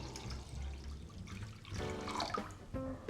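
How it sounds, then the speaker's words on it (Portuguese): Water is poured into a pan holding milk and sugar, a faint, quiet splashing and trickling that swells midway with a brief gurgle, heard alone with no talking. "Agora eu vou acrescentar 1 litro de leite integral e meio litro de água."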